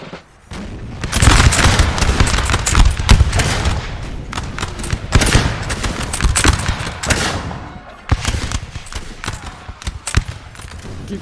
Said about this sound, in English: Keep firing, men, over the Ottoman Empire.